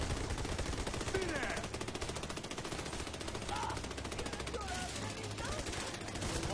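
Rapid automatic gunfire rattles almost nonstop in a firefight in Army of Two: The Devil's Cartel, fairly loud and dense, with voices talking over the shooting.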